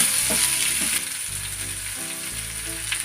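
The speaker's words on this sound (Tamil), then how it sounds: "வெங்காயம் லைட்டாக வதங்கினா போதும்" Finely chopped onions sautéing lightly in a pan for tomato adai batter, a steady close hiss of sizzling with faint low rumbling underneath and no voices.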